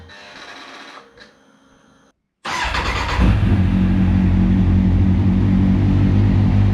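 Kawasaki Z1000 motorcycle fitted with dB killers: after a few faint clicks and a brief silence, the engine fires and settles into a loud, steady, close idle drone.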